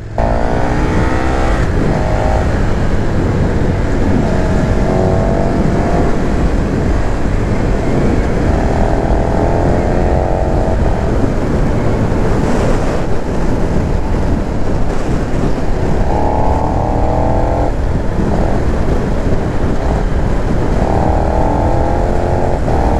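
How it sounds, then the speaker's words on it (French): A loud KTM 1290 Super Duke R 2020 motorcycle engine roars steadily up close, rising in pitch through repeated accelerations with gear changes, continuous and dominating throughout. "Ah oui, j'adore cette moto."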